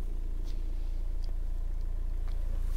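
A 2004 Renault Laguna II car engine idles steadily with a low, even rumble, close by and unchanging, with faint clicks on top and no talking.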